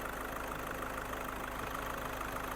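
The 1.6 TDI diesel engine of a 2011 Volkswagen Golf VI idles smoothly and quietly, a constant low clatter with no talking.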